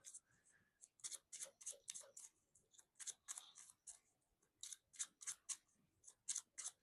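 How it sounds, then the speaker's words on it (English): Soft, crisp riffling and flicking of a Marvel Champions card game player deck being shuffled, a run of quick papery bursts in uneven clusters, close and quiet. "Okay, we shuffle up here."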